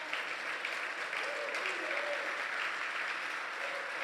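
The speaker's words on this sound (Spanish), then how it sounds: "Dale un aplauso al Señor" Church congregation applauding the Lord during a Spanish-language sermon, a steady wash of clapping at moderate level with a faint sustained tone beneath, continuous throughout.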